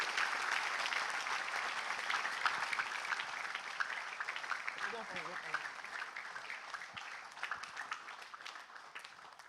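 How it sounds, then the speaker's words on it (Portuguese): Church congregation applauding during a men's gathering, sustained dense clapping that fades gradually, with a few voices heard briefly in the middle. "E ao Senhor uma salva de palmas"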